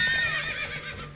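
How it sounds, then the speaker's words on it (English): A horse in the PUBG video game lets out a single close whinny, a shrill quavering neigh that fades over about a second, with no talk over it. "Want that horse, don't ya?"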